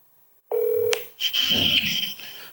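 A short burst of telephone dialing tones opens the call, with a few quick keypad beeps followed by a higher ringing tone. The tones are clear and close, and no one speaks over them.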